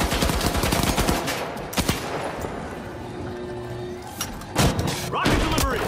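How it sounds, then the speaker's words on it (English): A pyro grenade thrown in the video game The Finals, amid an arena fight: sharp bursts and thuds crack out over rapid gunfire, with a louder burst near the end. "Throwing pyro grenade."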